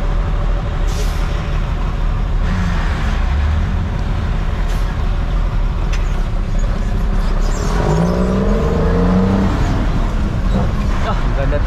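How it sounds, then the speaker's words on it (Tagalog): Dense road traffic near the port pier on Road 10, Tondo, Manila, heard from a vehicle heading southbound. Cars, trucks and buses rumble steadily throughout, with hissing air brakes and passing engines rising and falling. "Traffic guys."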